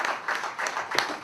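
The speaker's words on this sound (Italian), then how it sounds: "Applauso!" A short burst of applause, several quick claps in a loose rhythm, moderately loud with no voices over it.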